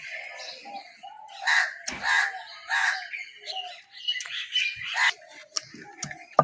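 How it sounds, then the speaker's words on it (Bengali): A crow calls repeatedly near an outdoor cooking spot, its calls short and repeated, moderately close and fairly quiet, with small clicks and knocks between them. "আমি যখন রান্না করতে আসবো তখন এই কাকটা এসে খুব জ্বালাতন করবে, খাওয়ার জন্য মনে হয় ডাকে"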